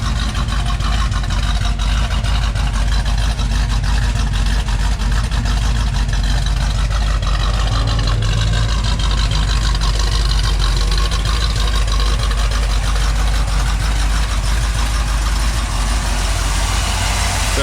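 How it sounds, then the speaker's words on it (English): A freshly rebuilt 351M V8 with a hydraulic roller cam in a 1978 Ford Bronco idles steadily, a loud, close, continuous low rumble with an even, lumpy pulse and no talk. "This engine's just been fully rebuilt with the big roller cam."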